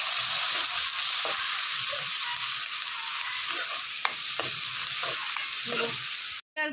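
Green chillies, onion and crushed garlic fry in a pan, a steady close sizzle broken by the scrape and clatter of a spoon stirring, with a brief cutoff at the end.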